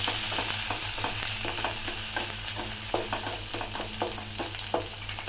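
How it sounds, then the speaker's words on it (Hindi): Ginger sizzles and sautés in hot oil for an Indian cauliflower masala, a steady close frying hiss with light stirring scrapes and crackles throughout, no speech. "तो ये मैंने इसमें तेल में डाल दिया अदरक। इसको मैं कुछ सेकेंड तक सौते करूँगी।"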